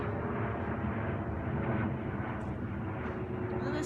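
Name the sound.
airplane flying overhead outdoors at sunset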